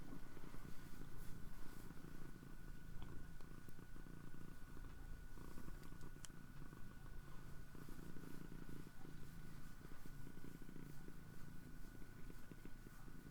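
A cat purrs softly and continuously in a steady low rumble, quiet and close, with no speech over it.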